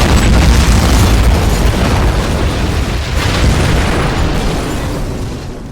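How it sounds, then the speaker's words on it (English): A missile explosion effect in an audiobook: a loud, dense, sustained boom filling the whole stretch, rumbling on and slowly fading toward the end, with no voice over it. "The explosion was so hard and loud, everyone fell to the ground."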